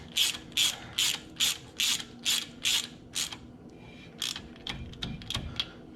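A ratchet tightens a 15mm bolt on the CV axle of a 2004 Ford F150 4WD. About eight even, close clicking strokes are followed by a quicker, lighter run of short clicks.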